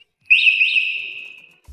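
An electric motorcycle's alarm sounds a loud, high-pitched electronic tone alone for over a second, warbling twice before holding steady and cutting off.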